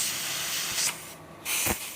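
Bursts of compressed air blast across motorcycle fuel injector parts during cleaning with carb cleaner, a steady loud hiss that briefly drops away and then returns, with no talk.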